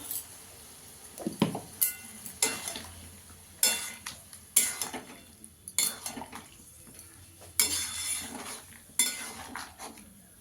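A mixer grinder jar is rinsed with water in a kitchen, giving sharp clinks and knocks of metal and glass in irregular bursts, close and moderately loud over quiet gaps.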